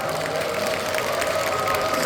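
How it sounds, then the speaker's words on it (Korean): Studio audience applauding to welcome lawyer Noh Young-hee as she arrives late at a book launch event, a steady, moderately loud wash of clapping with faint crowd murmur underneath. "박수 한번 주시죠."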